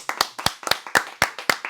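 A small studio group claps for a guest on an eco-art talk show: a handful of sharp, close hand claps in a quick irregular burst.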